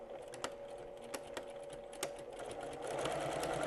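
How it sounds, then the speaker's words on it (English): A sewing machine back stitching fabric for a pumpkin pin cushion, running in short bursts with sharp clicks between passes, then a steadier, louder stretch of stitching near the end, close and fairly quiet. "So I'm back stitching several times. I want to reinforce that."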